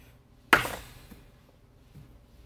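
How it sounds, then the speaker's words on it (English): A single hard downward chop of a Condor Kingfisher sword machete into wood lands as one sharp, loud impact that decays quickly, followed by faint ringing and near silence. "See what happens when I do one good downward chop."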